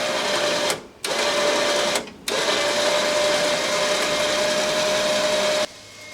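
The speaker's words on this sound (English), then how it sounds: "I'm gonna use the winch to drag this thing out." An electric winch drags a mini 4WD trophy truck with a loud, steady whirring drone, stopping briefly twice and then cutting off near the end; close, with no talking.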